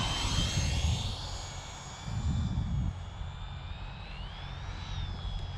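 A heavy Freewing F-14 electric ducted-fan RC jet comes in to land, its whining fan pitch sliding and rising over a low rumble that swells and fades, with no voices.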